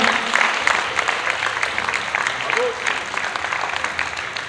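A crowd claps steadily in a sustained round of applause, fairly close, with a voice briefly audible partway through.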